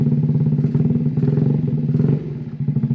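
A GY6 139QMB 50cc scooter engine fitted with a Nibbi PE19 19mm carburetor runs with a steady, close, pulsing rumble, then is blipped and falters toward a stall near the end, sputtering unevenly.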